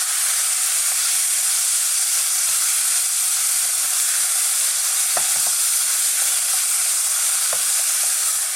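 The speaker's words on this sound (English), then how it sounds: "We're going to stir fry this for another 60 seconds and then we're done." Duck and rice stir-fried with a little sesame oil in a hot pan, a steady close sizzle and hiss of frying with a few soft clinks and scrapes of stirring, no talking.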